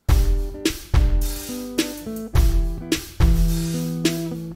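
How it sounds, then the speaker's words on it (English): A trap-style beat with a stuttering hi-hat effect, brief rapid hat bursts over deep bass hits and sustained synth tones, loud and rhythmic for a few bars, no voices. "So I found a bit of a stutter hat effect."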